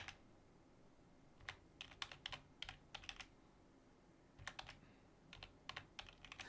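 Computer keyboard typing close to a microphone, coming in short bursts of rapid clicky keystrokes separated by pauses, with no voices.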